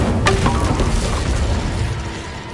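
The Incendio fire spell is cast in Hogwarts Legacy: a sharp cracking burst at the start, then a rough whooshing, crackling roar that slowly fades.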